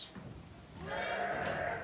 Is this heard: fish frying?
no